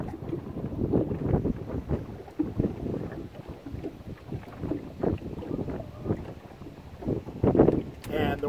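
Strong gusting wind buffets the microphone on a small fishing boat, a loud rumbling roar that swells and drops continuously, with water and hull noise beneath and brief voices now and then.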